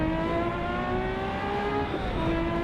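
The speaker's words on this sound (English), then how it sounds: "This is that beautiful rev noise." A Ferrari 512S race car engine in the Assetto Corsa video game on the Targa Florio course drones loudly and steadily at high revs, with a brief dip and pickup in pitch near the end, sounding synthetic.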